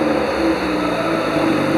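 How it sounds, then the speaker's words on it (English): An MGB car engine runs with a close, steady droning hum as the gas pedal is pressed, holding an even pitch through the short moment. "if I step on the gas"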